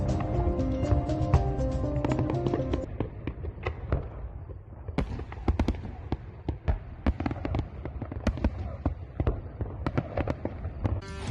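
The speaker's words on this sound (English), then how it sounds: "We leave you with some fantastic fireworks on display for the summit leaders." A fireworks display for leaders at the SCO 2022 summit, with many sharp bursts and crackles in quick irregular succession, loud and moderately distant, over music that fades in the first few seconds.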